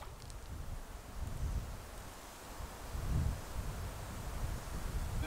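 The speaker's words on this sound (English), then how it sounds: "This wind is really f***ing me up" Strong wind buffets a microphone beside a mountain meadow stream in southern Colorado, a steady low roar of rumbling gusts that swells and eases for several seconds with no speech.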